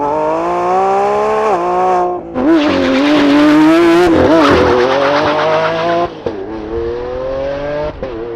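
A 2024 Lamborghini Revuelto's V12 engine revs loud and close, its deep harmonic tone climbing and falling through several surges, with tire squeal and a hard pull in the middle before it settles back to a steady drone.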